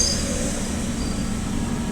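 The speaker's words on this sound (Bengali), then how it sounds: "তো স্টেশন চত্বরে ট্রেন এসে দাঁড়ালো" A train pulls into the empty Santipur Junction station, its steady rumble and rolling wagon noise filling the platform, with faint high wheel squeal on top; no voices.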